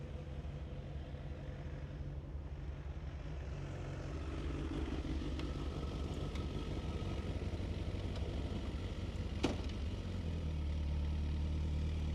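A Suzuki GSX-R 1000 sport motorcycle engine idles steadily at close range, a low continuous rumble with a brief sharp click near the end.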